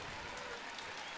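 Baseball crowd of about 20,000 at a Cleveland ballpark on a September 2011 night, rising to its feet with a steady, dense roar of cheering and clapping that fills the whole moment.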